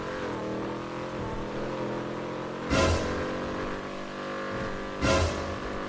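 Car engines from a street race in the GTA roleplay video game hum steadily, with two brief louder revving bursts, no talking.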